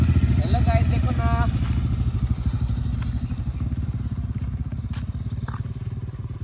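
A Bajaj Pulsar RS200 motorcycle engine idles close by with a rapid, throbbing low rumble that holds steady, and a few faint clicks and rattles sound around it.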